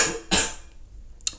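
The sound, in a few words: cough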